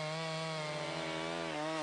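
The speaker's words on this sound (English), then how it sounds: "A gasoline-powered two-stroke engine drives a chain outfitted with sharp metal teeth." A gasoline-powered two-stroke chainsaw runs at a steady, buzzing high idle, close and continuous, its engine note dipping briefly near the end.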